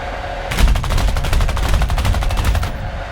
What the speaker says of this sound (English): Now let's go all weapons here.